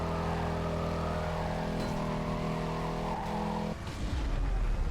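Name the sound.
Chrysler 300 SRT8 car engine driving in Need for Speed: Carbon video game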